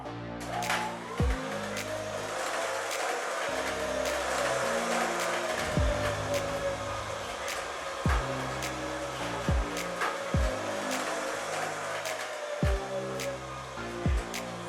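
A 1973 Series III Land Rover with a 5-speed transmission engine drones steadily on a test drive, rising and falling through gear changes with recurring sharp thumps and rattles over bumps, heard alone without talk.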